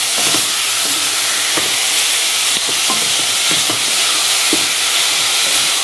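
Spinach wilting in coconut oil in a pan over medium heat, giving a loud, steady sizzle and hiss throughout with faint scattered stirring clicks underneath, no talking.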